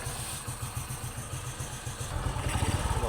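A 110cc motorcycle engine with a newly fitted carburetor runs close by in a steady, pulsing rumble, then picks up toward the end with faster, stronger firing pulses, with no speech.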